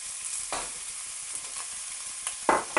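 Sliced chicken and vegetables including pepper and onion stir-fry in a pan with a soft steady sizzle, punctuated by a few sharper stirring scrapes and clatters.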